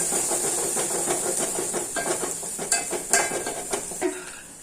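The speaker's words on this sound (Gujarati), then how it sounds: "પછી ડુંગળીને થોડીક સાતળશું આપણે" Onions sautéing with garlic in a pan for a Kathiyavadi fenugreek seed curry, a steady close hiss and sizzle broken by scraping stirs and a few sharper clinks, with no talking.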